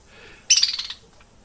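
Budgies give a quick burst of bright, rapid chirps lasting about half a second, close and fairly loud, then a faint single chirp after a quiet gap.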